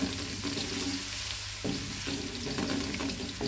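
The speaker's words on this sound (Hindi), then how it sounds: "1 मिनट तक हम इसको भी हल्का सा फ्राई कर लेंगे।" Steady sizzling of ginger garlic paste frying in a pan, a continuous crackly hiss with faint stirring scrapes, fairly close and without speech.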